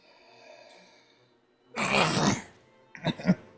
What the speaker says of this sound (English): Yeah, it's just a cough.